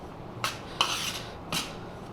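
A spoon scrapes and clinks through a hot besan ladoo mixture with cardamom powder, three short distinct bursts of stirring against the pan separated by quiet gaps.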